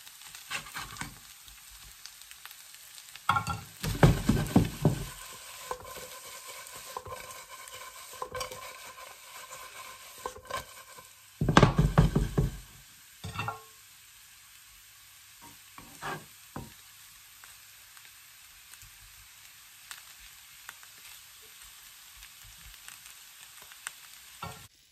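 Potato pieces frying in a pan with too little oil and sticking, a soft continuous sizzle punctuated by two loud bursts of stirring and scraping, then quieter scattered scrapes, close up with no talking.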